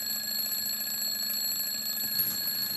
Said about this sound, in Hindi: साई प्लीज अलार्म बंद कर दो ना